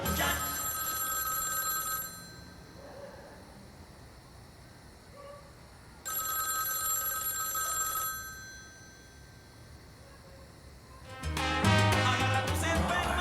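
A telephone rings in two long bursts with a pause between them while the call goes unanswered, loud and close, and a different sound with many tones starts near the end.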